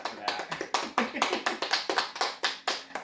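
A small group of students clapping in a classroom, with sharp, irregular hand claps repeating steadily for a few seconds, close and moderately loud.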